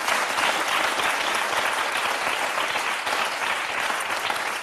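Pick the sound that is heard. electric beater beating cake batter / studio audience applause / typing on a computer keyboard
studio audience applause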